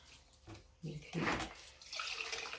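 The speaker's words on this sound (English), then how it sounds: "see all the water dripping out" Water dripping and trickling from a wrung cleaning cloth used on a wood floor, close splashy bursts with a brief voice near the start.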